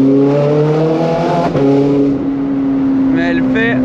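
A Ferrari engine revs loudly up close inside the car, a strong harmonic drone rising steadily in pitch and then dropping after a shift, with someone talking briefly near the end.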